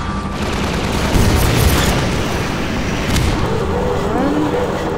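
A rocket launcher explosion in Half-Life 2, a loud deep boom with rumbling blasts and scattered gunfire around it, close and heavy over a couple of seconds, then fading debris noise.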